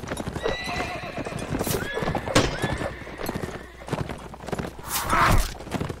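Rapid hooves clip-clop in a galloping rhythm in the video game Mount & Blade: Warband, with a horse neighing shrilly a couple of times over the busy hoofbeats.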